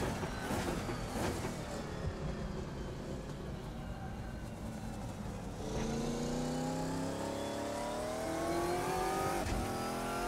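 GT1 race car lapping Laguna Seca in the Assetto Corsa sim, engine droning steadily and loud, revs sweeping up through gears with rising whine after a shift midway, continuous with no talk.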